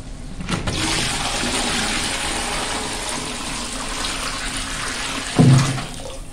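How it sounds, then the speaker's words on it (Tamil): Steady gushing water pours continuously into a large cooking pot, about 16 litres, with a brief clunk near the end; no voices. "மொத்தமாக 16 லிட்டர் தண்ணி சேர்த்துக்கலாம்"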